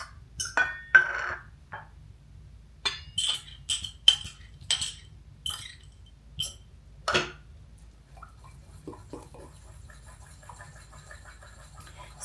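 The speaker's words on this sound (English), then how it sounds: "I'm just going to dump these ingredients in there and we're going to mix it up." Ingredients for a chocolate keto Oreo mug cake are tipped into a mug and stirred into a thick batter, giving a run of close, irregular clinks and scrapes of utensil against ceramic, followed by quieter scattered taps.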